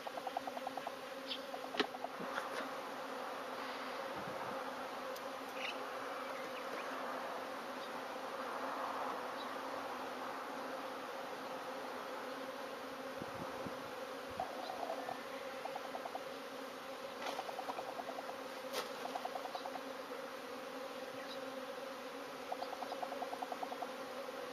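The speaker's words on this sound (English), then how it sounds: "I've never been in this many bees before" A large swarm of bees drones steadily and close during a transfer into a top bar hive, a dense continuous buzz with single bees passing now and then, no voices.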